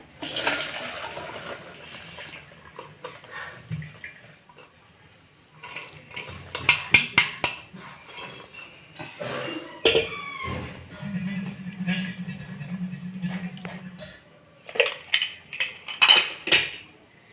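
Boiled peanuts are tipped from a pressure cooker into a metal sieve, with clattering metal knocks, scraping and a rush of pouring in bursts, separated by quieter pauses.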